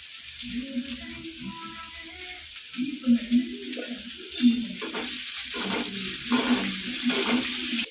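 Curry leaves hit hot oil alongside onions for a papaya flower stir-fry, giving a steady close sizzle with a few sharper crackling bursts and a faint low hum underneath.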